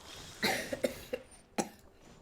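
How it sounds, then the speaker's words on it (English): A child coughing nearby in a quiet room, a few short dry bursts spaced unevenly, one doubled cough followed by a softer pair and a final single cough. "I hear you coughing"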